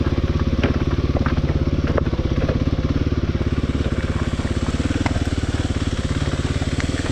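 A Kawasaki KLX300 motorcycle crawls in first gear over rough, rocky downhill ground, its single-cylinder engine thumping steadily at low revs, loud and close, with occasional clatter from rocks underneath.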